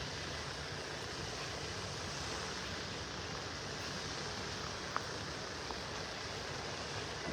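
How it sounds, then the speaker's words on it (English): Waves wash onto the sand at the beach by the historic Naples Pier in Naples, a broad steady roar of surf mixed with wind, continuous and fairly loud, with no talking. "It's been a while since we've heard the lapping of the waves."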